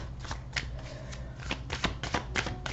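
Tarot cards from The Fountain Tarot deck handled and picked by hand, with repeated soft flicks and sliding card snaps in irregular bursts, close and fairly quiet, no talking.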